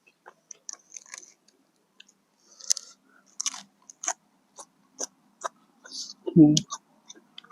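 Someone chewing crunchy fresh papaya in a spicy blue crab salad, close to the mic, with crisp bites and clicks in bursts separated by quiet gaps and a louder low gulp near the end.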